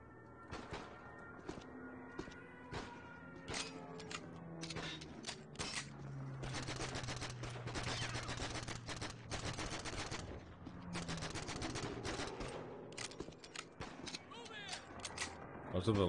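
Rapid automatic gunfire in a video game, rattling in long bursts with short pauses between volleys, loud and close, with a steady low hum running underneath.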